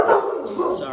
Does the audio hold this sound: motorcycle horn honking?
no